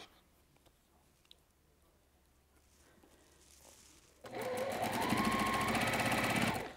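Sewing machine stitching small quilt pieces, quiet at first, then a loud continuous run of rapid needle clatter for the last few seconds, no talking.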